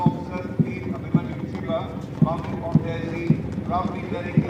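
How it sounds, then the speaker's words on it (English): Horses clip-clop in a cavalry parade with flag bearers, their hooves striking in a steady, even rhythm at moderate distance while a voice narrates over them. "following Under Officer Dharamveer are 4 horses with their flag bearers"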